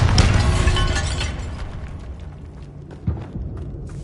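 A Bombarda explosion spell in the Hogwarts Legacy video game: a heavy boom and shattering crash at the start that decays into rumbling debris over several seconds, with a small pop near the end.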